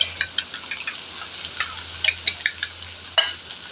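Crumbled egg fries with ampalaya (bitter gourd) in a pan, a bright continuous sizzle broken by rhythmic scraping and clacking strokes from stirring, close and fairly loud.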